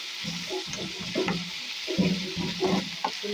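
Sliced onions fry with a spoonful of ginger garlic paste for chicken curry, a steady sizzle broken by repeated scraping stirs of a spoon against the pan, close and moderately loud, with no voices.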